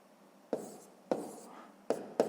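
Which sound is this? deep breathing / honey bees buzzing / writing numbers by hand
writing numbers by hand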